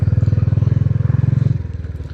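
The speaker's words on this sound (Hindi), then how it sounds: "बाइक भी आवाज करते करके" A motorcycle engine labours up a steep, continuous mountain road between Uttarkashi and Dehradun, a steady close throbbing drone that holds for about a second and a half, then slackens and fades slightly.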